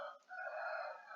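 A rooster crows once, a short, clear cock-a-doodle-doo heard close and fairly steady.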